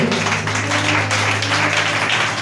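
A church congregation claps and applauds in steady, dense rhythm throughout, loud and close, with a sustained tone underneath.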